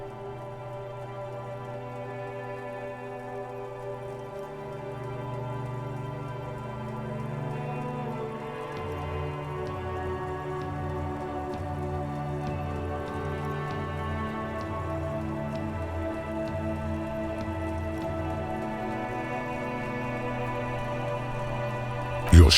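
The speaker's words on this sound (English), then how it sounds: "Rain falls down on the world." Steady rainfall in a grey, stormy city scene from the video game Disco Elysium, a soft continuous patter running beneath sustained ambient music tones. It builds slightly in loudness toward the end.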